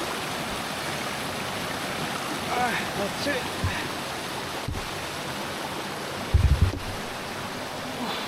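A river runs steadily along a wild gold trail, a continuous broad wash of flowing water heard close by. A voice speaks briefly and there are a few soft thumps of movement near the end.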